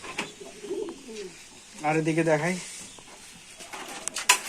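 Rajshahi Giribaz pigeons kept by a fancier give soft cooing calls, one clear rolling coo in the middle, close and fairly quiet, with someone talking around them.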